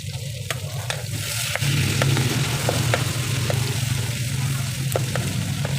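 Tomatoes dropped into a pan of sizzling onions while cooking mung beans, bringing a loud steady fry with repeated sharp clicks of a spatula stirring against the pan.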